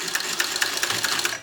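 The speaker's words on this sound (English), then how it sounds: "I'm going to back stitch a couple of times" A sewing machine back stitches along a wristlet strap seam, with quick regular needle beats in a close, steady run lasting just over a second, no voices.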